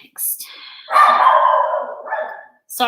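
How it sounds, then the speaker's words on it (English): A dog barks excitedly in a few quick, loud, close yelps and whining barks separated by short pauses. "the dog is going crazy"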